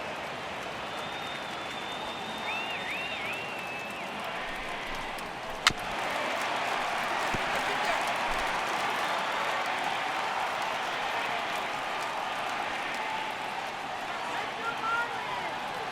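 Crowd noise from a baseball video game, MLB The Show 18 on PS4, swelling steadily as fans rise for a 3-2 count in a Marlins home game; continuous broadband roar under commentary, with one sharp crack midway.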